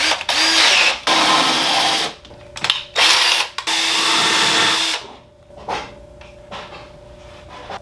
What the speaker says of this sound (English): what I'm going to do now is I'm going to drill the hole in the back here